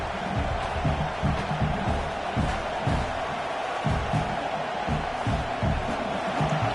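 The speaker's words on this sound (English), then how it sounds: "this crowd is fired up. Listen to this noise here." A large stadium crowd at a football game roars and cheers continuously, a loud, dense wall of noise with no single voice standing out.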